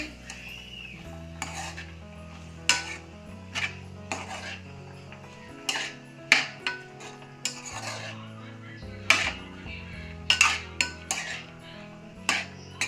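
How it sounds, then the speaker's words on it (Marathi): Shevga vegetable curry is stirred in a metal pan with a spoon, making repeated scraping clanks and knocks, and a plate is set over it as a lid, all close with faint sizzling beneath. "फिरवायचं भाजीला छान मिक्स करायचं आणि प्लेट आणि झाकून ठेवायची"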